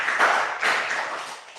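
Congregation applause at an online prayer meeting, a dense, steady wash of many hands clapping that swells near the start and continues evenly for under two seconds.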